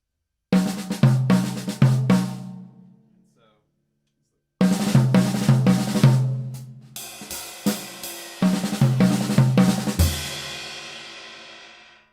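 Drum kit lick built on left-hand lead paradiddles, played in two close, loud bursts of rapid strokes with cymbal crashes. A short silence separates the bursts, and a final crash rings out and decays.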